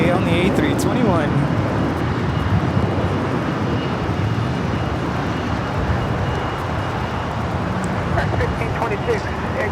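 An American Airlines Airbus A321 takes off at Los Angeles airport with a loud, steady jet roar that fills the whole stretch with dense broadband rumble and no clear breaks.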